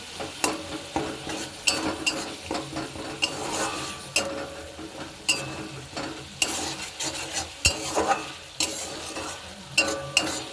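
Spices frying in oil for an aubergine and potato mash, stirred steadily with a utensil scraping and clinking against the pan in a repeating rhythm over a continuous close sizzle.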